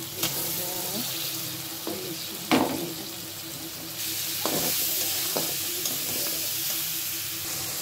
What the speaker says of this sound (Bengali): ইলিশের মাথাটা আমার কষানো হয়ে গেছে